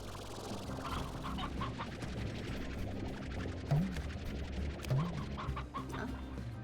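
Chickens in the video game Slime Rancher cluck continuously over a busy in-game background, with a couple of louder low clucks standing out near the middle.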